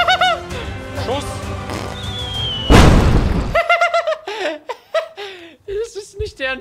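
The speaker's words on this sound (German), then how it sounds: "Der kriegt direkt eine Brandbombe." A sudden loud burst of crackling, roaring firebomb blast noise in the video game Pigeon Simulator, lasting about a second, with excited talk and laughter around it.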